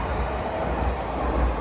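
A two-car Siemens light rail train, cars 2069 and 2070, pulls away on the N Judah line with a loud, steady rumble and rolling rail noise throughout.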